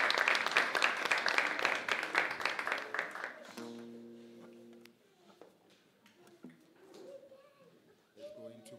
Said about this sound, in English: We thank the Lord as we clap our hands again